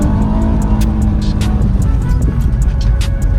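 C6 Corvette pro drift car in Ireland held at full throttle, a loud, close, continuous engine roar with a high buzzing edge and faint tire squeal layered in, no voices.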